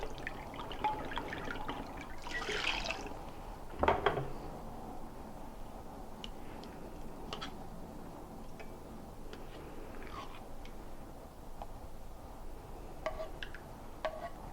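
Ginger and turmeric mortar being rinsed out with coconut water, quiet liquid sloshing with small drips and a sharper splash or clink near the middle, close and faint.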